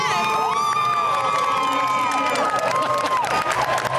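A baseball stadium crowd at an Atlanta Braves versus Washington Nationals game cheers loudly and continuously, with shouts and whoops rising over a steady roar.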